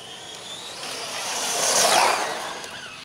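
A brushless-upgraded RC crawler car with a two-speed gearbox and 12T or 13T pinion drives over uneven ground, its electric motor whining steadily and rising toward the middle before easing off, with faint rattling from the chassis.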